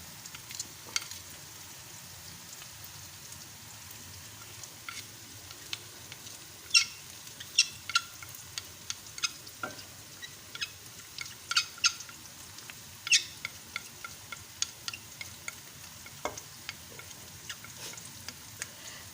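Onion and garlic sizzle softly in a pan while being stirred, with scattered spoon scrapes and small pops over a quiet, steady frying hiss, heard alone.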